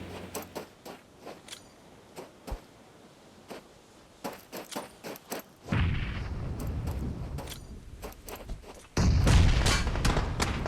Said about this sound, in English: shots all over the place